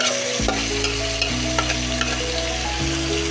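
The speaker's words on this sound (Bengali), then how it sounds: "মশলাটা অ্যাড করে এখন ভালো করে কষিয়ে নিব" Continuous sizzling of spice paste frying in a pan, with occasional stirring scrapes and a steady low hum underneath.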